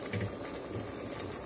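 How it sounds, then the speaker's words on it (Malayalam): Spinach curry boils in a pot with a steady, dense bubbling hiss that carries on loudly and evenly throughout. "ഇപ്പോൾ നന്നായി തിളച്ചിട്ടുണ്ട്."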